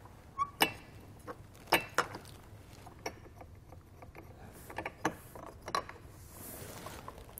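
Clicks and ratcheting taps from a bolt being tightened into a Rhino-Rack ROC25 roof rack clamp on a bare car roof, several sharp close clicks spaced irregularly with quiet handling noise between.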